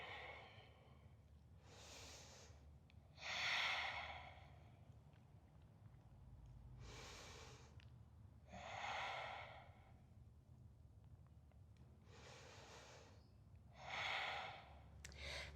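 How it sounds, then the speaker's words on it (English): Slow, audible breaths held in a standing yoga warrior pose, several long inhales and exhales spaced a few seconds apart, close and soft over a faint steady room hum. "And we breathe here."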